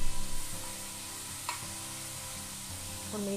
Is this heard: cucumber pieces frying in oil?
yes